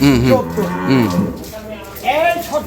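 A Holstein Friesian dairy cow moos several times in long, low, drawn-out calls, close and loud, with a shorter bellow near the end.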